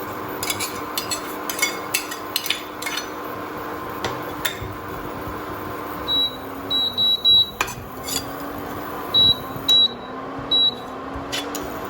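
Metal utensil scraping and clinking against a hot pan in steady stirring strokes as grated dry coconut is roasted, with a few short electronic beeps partway through.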